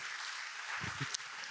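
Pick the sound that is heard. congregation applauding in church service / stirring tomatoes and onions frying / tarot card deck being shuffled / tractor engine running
congregation applauding in church service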